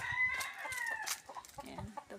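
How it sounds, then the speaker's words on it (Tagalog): A hen clucks close by in a rural yard, a quick run of sharp, rising calls that falls into softer, scattered clucks. "At yan yung manok na makulit."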